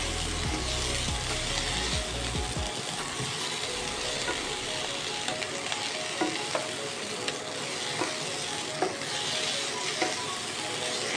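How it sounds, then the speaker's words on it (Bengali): Raw poppy seeds frying in a pan, a steady close sizzle with scattered scraping stirs and small clicks, no voices. "কাঁচা পোস্ত 1 চামচ। দিয়ে আবার এটাকে ফ্রাই করবো।"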